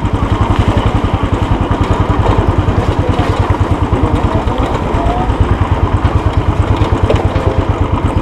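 A motorcycle engine thumps close and loud in an even, rapid pulse while the bike is ridden along a high-altitude road in Mustang, Nepal, near the Jomsom police check post. There is no talk.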